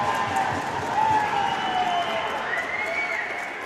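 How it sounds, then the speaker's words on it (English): A college ice hockey crowd at Maryland versus West Virginia reacts to a denied breakaway with a loud, sustained roar and cheering that fills the rink, swelling and then easing slightly, with a commentator's voice riding on top. "I hear that crowd reaction."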